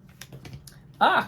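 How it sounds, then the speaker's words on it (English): Tarot cards shuffled by hand in a short, crisp riffling burst that follows a moment of quiet, close and fairly loud. "I'm going to do one more shuffle."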